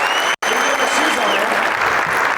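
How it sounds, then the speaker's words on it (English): A conference keynote audience gives loud, dense, continuous applause that fills the room, briefly cutting out for an instant near the start before carrying on without a break. "Give him a round of applause."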